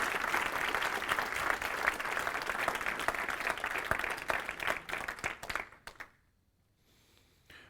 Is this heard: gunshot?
no